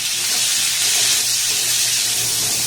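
Beans and carrots going into a hot pan to fry, giving a steady broadband hiss and sizzle that stays fairly loud and even throughout, with no talking.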